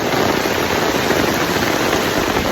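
Heavy rain falls steadily on a forest campsite in Kaeng Krachan National Park, Thailand, making a dense, loud, unbroken patter with no voices.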